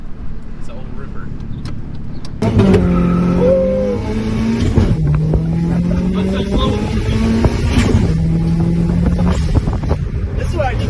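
An old car at a private car meet revs hard from about two and a half seconds in, its engine note rising and falling through several loud pulls, with wind buffeting the microphone and voices talking over it.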